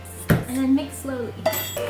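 A spoon works thick pecan oatmeal cookie batter slowly in a bowl, giving close clinks and scrapes with short knocks against the bowl at irregular moments, followed by softer dragging.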